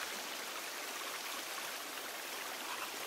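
Steady stream of flowing water in the survival video game The Forest, a continuous rushing wash with no breaks, fairly close and even in level throughout.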